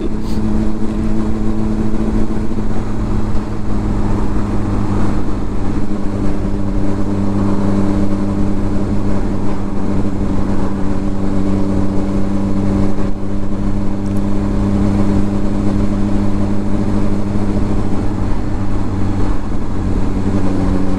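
Steady motorbike engine drone on a sunny coastal ride toward Dunseverick Harbour, loud and continuous throughout with a constant low rumble and wind, no talk.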